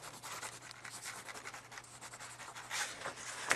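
Oil pastel is rubbed against a surface to clean off gunk, a soft continuous scratchy rubbing in quick strokes, quiet and close, with no speech.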